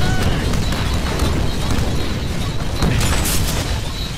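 Bomb explosions in a Deadpool platformer video game, a loud continuous rumble of booming blasts packed closely together over a few seconds, with no clear talk.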